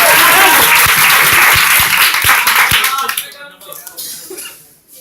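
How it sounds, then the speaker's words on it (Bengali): Audience at a university batch reception program clapping loudly for a performer, dense close applause that thins into scattered claps and fades out, with voices and some laughter mixed in. "ওর জন্য একটা হাততালি।"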